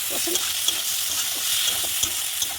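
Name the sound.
frying spices and soybean chunks in a pan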